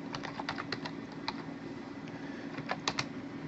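Quick, light keystrokes rattle on a computer keyboard in short bursts with brief pauses, fairly close and alone.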